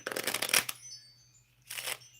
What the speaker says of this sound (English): Let me shuffle a little here.